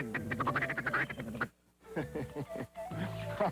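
A Nightingale duck game call, hand-blown to imitate a duck, gives rapid nasal quacks in close series, breaks off briefly, then resumes with shorter bursts. The calls are clear and fairly near.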